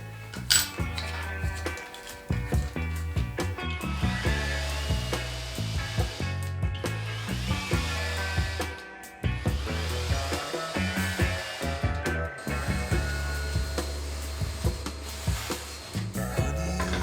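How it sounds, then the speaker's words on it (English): A power drill whirs close by in several sustained bursts, its motor pitch rising and falling, separated by brief pauses as pilot holes are drilled. "First thing that I need to do is to drill some pilot holes"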